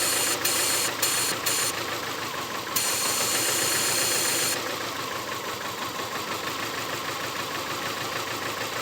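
A 4-cylinder engine running on only 2 cylinders, idling with a rough, uneven knocking throb that stays loud and steady throughout, alone with no talk.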